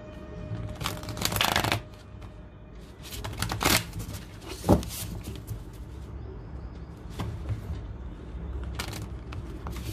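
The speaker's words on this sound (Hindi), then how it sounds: "पहले हम थोड़ा शफल कर लेते हैं।" A deck of Angel Wisdom tarot cards is shuffled up close in several quick riffling bursts and softer card slides, with faint bird cooing in the background.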